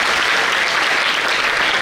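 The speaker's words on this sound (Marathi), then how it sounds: "या सगळ्यांचं जोरदार टाळ्या आपण कौतुक करूया" Steady, dense applause from an audience at a school award ceremony, continuous and fairly loud throughout without any pause.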